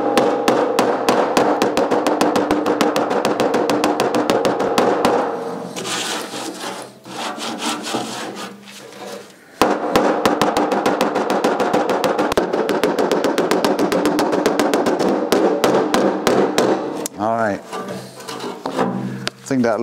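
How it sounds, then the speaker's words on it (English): Rapid repeated metallic taps and scraping close up, a steady stream of light hammer blows on metal of a David Brown 990 tractor, broken by a short pause midway, with occasional voices. "I'm not going to hammer it very hard."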